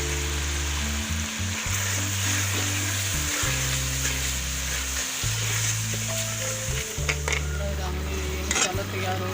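Spice masala frying in a pot, a continuous sizzle with scraping and clinking stirring strokes against the metal, over a steady low hum.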